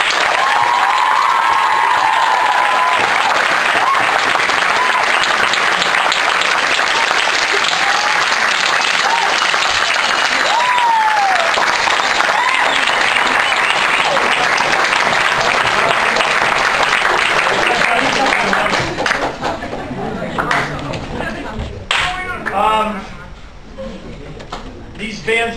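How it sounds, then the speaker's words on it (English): A large audience claps for the trip chaperones in sustained, loud applause lasting about twenty seconds before thinning into scattered claps and voices. "so give them a round of applause."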